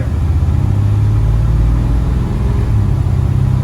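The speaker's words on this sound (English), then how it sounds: "I'm going to give it a little more gas and you can feel the jump from second gear." The engine of a 1955 Chevrolet Bel Air gives a low, close rumble that rises slightly under more throttle as the automatic gearbox moves into second gear.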